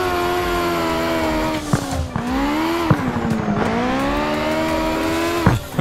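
A car drifts in the CarX drift racing game, its engine droning and revving with rising and falling pitch while tires squeal, loud and continuous with no talk.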